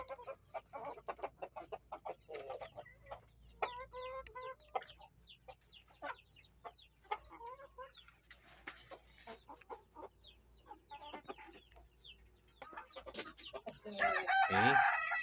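A Rhode Island hen and a Jersey Giant rooster cluck in quick, scattered bursts nearby, and a loud crow breaks in near the end.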